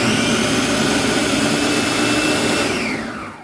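A Hamilton Beach kitchen blender runs at full speed while making roasted tomato sauce: a loud, steady whirring motor with a dense roar, alone throughout and winding down at the very end.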